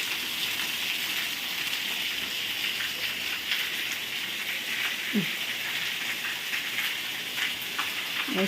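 Rain falling steadily outdoors, a continuous, even hiss of drops with a few louder splashes near the end, no voices over it.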